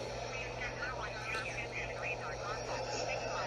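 A JetBlue airliner on final approach in Microsoft Flight Simulator 2020 hums as a steady, continuous engine drone, with a person talking over it throughout.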